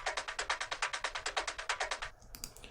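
Two percussion loops, one panned slightly left and one slightly right, play together as a techie groove, with rapid even clicky hits for about two seconds before cutting to a few scattered bright ticks, with no voices.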